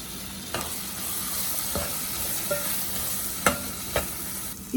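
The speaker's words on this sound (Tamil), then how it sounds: "இதை 5 நிமிஷம் வதங்கட்டும்." Onion and tomato with coriander powder, chilli powder, turmeric and salt sautéing in a pan for a Tamil fish curry masala, a steady close sizzle with a few sharp spoon scrapes and taps as it is stirred.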